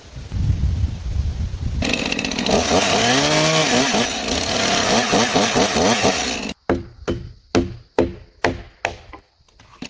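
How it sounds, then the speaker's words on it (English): A chainsaw cuts logs for an off-grid wilderness cabin, its engine screaming and rising and falling in pitch as it bites the wood, then cutting out. A series of sharp, evenly spaced knocks follows, loud and close. "You can tell just by watching him work the chainsaw."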